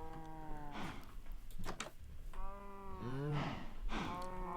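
Cows mooing in the video game Minecraft, several long, drawn-out moos overlapping one another at fairly close range, with game background sound beneath them.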